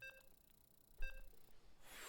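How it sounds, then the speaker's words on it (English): Two short electronic beeps ring out about a second apart, each a thin tonal chirp standing a little above a low background murmur, followed by a brief swell of hiss at the end. "You hear the beeps?"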